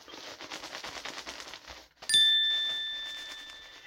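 A Rearz Rebels plastic diaper crinkles close up in a rustling burst, followed by a sharp rustle with a brief ringing tone that fades out.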